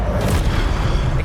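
An Incendio fire spell bursting in the Hogwarts Legacy video game, a brief, dense, roaring boom that stays loud and steady throughout.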